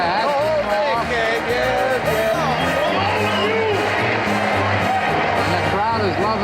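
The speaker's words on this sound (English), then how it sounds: "the crowd is loving every minute of it." Boxing arena crowd cheering and whooping as the heavyweight champion is presented, a lively roar of many voices with an announcer talking over it.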